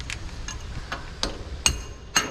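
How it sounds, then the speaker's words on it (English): Hammer striking a hot trailer axle hub, sharp metallic blows spaced about half a second apart, moderately close and ringing, over a low background hum. "A hammer."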